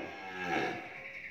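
A single cow gives a low, drawn-out moo at a farm pen. The call rises and fades in just over a second and sounds moderately distant.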